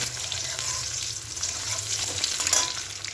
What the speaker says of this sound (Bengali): আর ডিমটা আমি ভেজে নিই